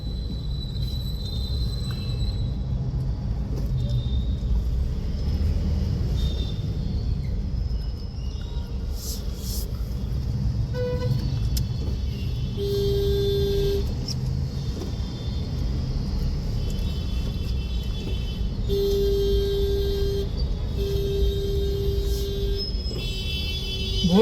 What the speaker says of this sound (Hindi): बहुत ट्रैफिक है, हर जगह ट्रैफिक मिलता है, और दिल्ली में तो वैसे ही बहुत ज़्यादा ट्रैफिक है।